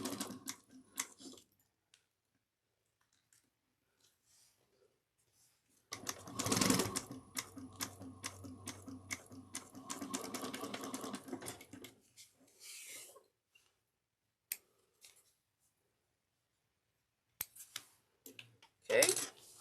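A domestic sewing machine stitches a cross-body bag in one sustained run of about six seconds, with quiet handling and clicking before and after it.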